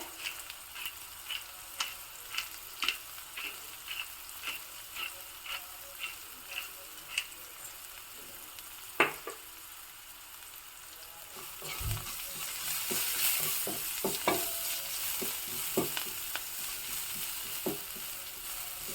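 Onions frying in a pan, first a regular series of sharp ticking spatula taps over a low sizzle, then a louder, fuller hiss with irregular scraping and knocks as they are stirred.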